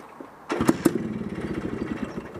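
An old WSK motorcycle engine sputters to life after a quiet moment, with a couple of sharp pops before settling into a rough, uneven idle nearby.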